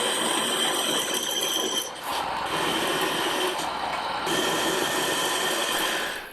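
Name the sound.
metal lathe parting off a workpiece with parting blade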